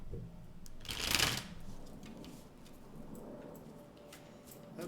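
Tarot cards shuffled for a love reading: one clear riffling burst near the start, then softer handling over a low room hum, with faint voice-like murmur in the background.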